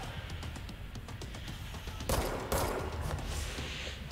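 Gunfire in the Control video game, rapid close shots with two louder blasts partway through, over a busy combat din.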